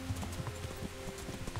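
A fast horse's hooves clip-clop in a brisk, even rhythm in the medieval game Kingdom Come: Deliverance, close and clear over a low ambient hum.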